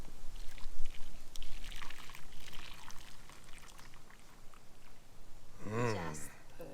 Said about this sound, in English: time to pour it into a little container